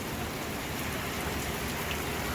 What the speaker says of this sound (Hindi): बाहर तो जी बहुत छमछमाती बारिश हो रही है।